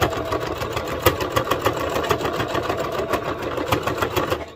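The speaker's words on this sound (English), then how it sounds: "So I'm going to backstitch when I start." A sewing machine backstitches at the start of a seam while sewing a daisy top, a rapid, even needle clatter close by with quick rhythmic pulses, alone without speech.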